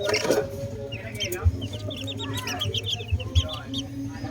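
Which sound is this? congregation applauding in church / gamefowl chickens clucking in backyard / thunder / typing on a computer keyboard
gamefowl chickens clucking in backyard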